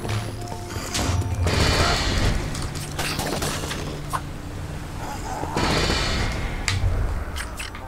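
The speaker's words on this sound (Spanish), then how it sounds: "Ojo a la explosión." A booming in-game explosion in Minecraft Dungeons, with heavy crashing rumbles swelling twice over continuous game noise and no talking.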